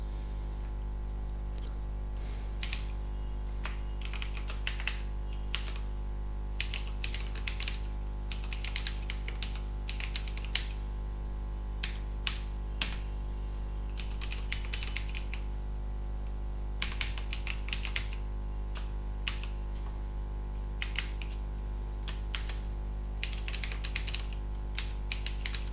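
Code being typed on a computer keyboard during a CSS and JavaScript lesson: quiet, irregular bursts of close key clicks with pauses between, over a steady low hum and no talk.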